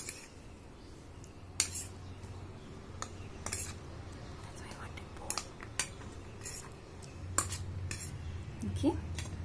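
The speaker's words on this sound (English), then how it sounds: "We're going to mix this green chutney and mix this properly." Green chutney being mixed for a vegetable roll: a spoon clinks and taps sharply against a bowl at irregular intervals, soft and close, over a quiet background with faint voices.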